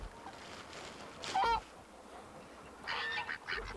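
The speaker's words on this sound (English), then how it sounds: "The big ones are Canadian geese. They're the biggest geese." Canada geese, the big ones in a mixed flock with ducks, honking in two distinct bursts a second or so apart, loud and fairly close over a constant outdoor hiss.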